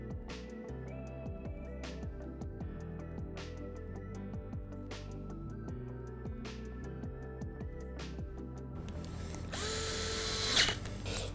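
A screw being driven into a front splitter lip on a 2020+ C8 Corvette Z51, heard as a steady mechanical whir with regular clicking, then a brief louder burst near the end.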